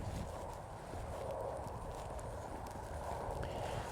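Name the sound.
horse walking with soft steps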